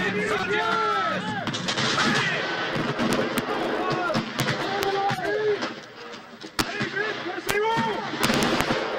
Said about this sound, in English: You can hear only too well the shots fired from the abattis.